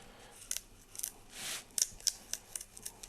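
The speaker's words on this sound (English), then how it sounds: "So again with the knife," A knife blade lifting and separating the original end paper from a book during binding repair, heard as a series of short, crisp scraping and slicing strokes close up, spaced irregularly with one longer drawn stroke.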